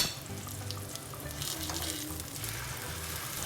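Cut vegetables sizzle quietly on a grill, a faint, steady crackling hiss with soft popping, heard alone at low volume.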